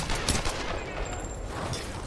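Gunfire crackles in the Tomb Raider video game as a dense, busy stretch of shots and impacts, steady and fairly loud over about two seconds.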